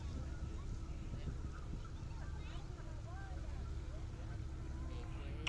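Steady wind gusting across Whitby harbour, a continuous low rumble of air buffeting the microphone with faint background activity underneath, holding level throughout.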